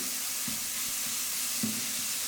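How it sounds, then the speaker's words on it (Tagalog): Ground pork sautéing in a pan while being browned for crispy pancit palabok, a steady loud hiss of frying with a few soft knocks of a utensil stirring. "Iginigisa ko lang itong ground pork hanggang sa maging brown na"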